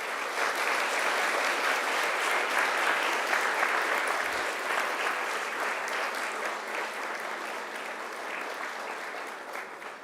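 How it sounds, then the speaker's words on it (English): Graduation ceremony audience in a large hall giving sustained, loud applause, a dense wash of many hands clapping steadily for the full stretch and easing slightly toward the end. "turn around to face your families and friends and give them a huge round of applause."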